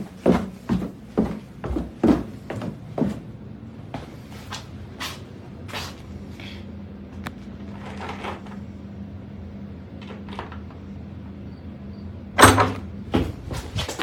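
A basement door handle jerks violently and the door rattles in its frame, a quick run of loud knocking clatters that fade into a lull before another sharp burst and more rattling.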